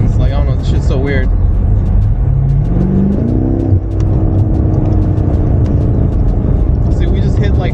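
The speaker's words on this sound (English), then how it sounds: "you could hear the car, but no backfiring whatsoever" A BMW M5 drives and accelerates with a loud, close engine rising in pitch while people talk over it throughout.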